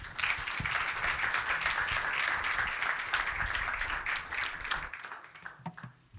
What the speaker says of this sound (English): please join me in giving a round of applause to our panelists